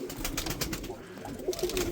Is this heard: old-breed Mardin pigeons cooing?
yes